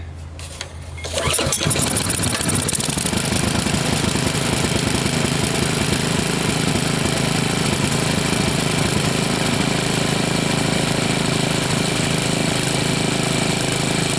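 A Briggs & Stratton 190cc OHV engine on a MasterCraft Lawn Chief rototiller, run on full choke, fires after a brief quiet pull and settles into a loud, steady, close-up roar that holds for the rest of the clip.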